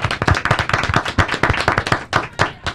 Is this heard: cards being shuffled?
no